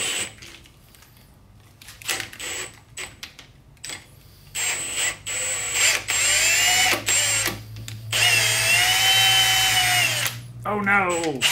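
A power drill whirs in repeated bursts, revving and straining as it threads a bolt, loud and close with short pauses between runs.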